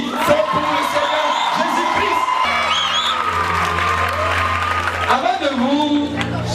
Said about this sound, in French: Celui qui est content peut se lever et applaudir.